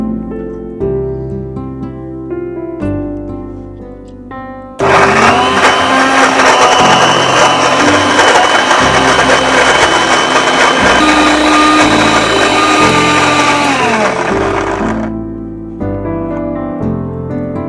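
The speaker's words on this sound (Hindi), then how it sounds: "तो बना लेंगे अब इसकी प्यूरी।" A blender purées fruit with mixed fruit juice, roaring loud and steady for about ten seconds before cutting off. Background music plays before and after the blending.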